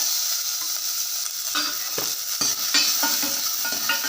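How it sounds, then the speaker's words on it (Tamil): Onions sizzle steadily in hot oil while a utensil stirs them, with scraping strokes against the pan, close and continuous with no talking. "நல்லா இதில் கலந்து விட்டுடலாம் வெங்காயம் எண்ணெயில் கொஞ்சம் வேகட்டும்"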